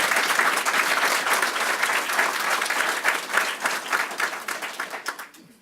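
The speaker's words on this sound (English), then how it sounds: "Give him a round of applause." An audience at a police promotion ceremony in Stockton applauds a newly promoted sergeant, dense steady clapping from many hands that holds level and then tapers off at the end.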